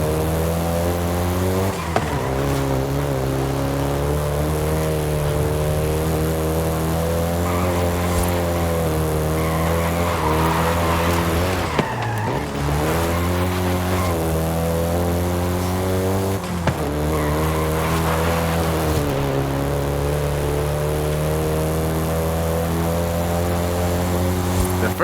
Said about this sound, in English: including the Golf GTI you're driving right now